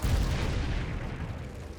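The Confringo explosion spell cast in Hogwarts Legacy: a loud, sustained rumbling blast with dense low-end roar that holds steady throughout, with no voices over it.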